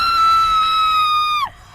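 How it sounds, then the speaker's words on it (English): A monster woman lets out a long, loud, sustained high-pitched scream that holds steady and then bends sharply downward as it cuts off, alone without talk. "she let out a blood-curdling scream"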